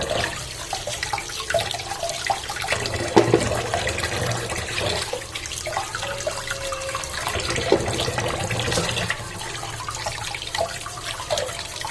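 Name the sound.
running water while washing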